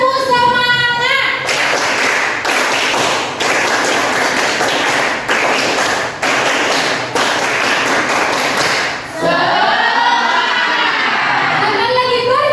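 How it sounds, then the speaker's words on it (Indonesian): A group doing a rhythmic spirit clap at a training session, sharp unison claps in a steady patterned beat, close and loud, with voices chanting before and after. "Tepuk semangat."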